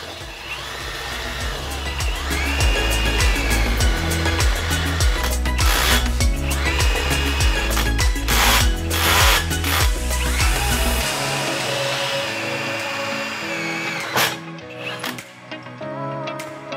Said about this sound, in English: That's why a core drill is the ideal thing.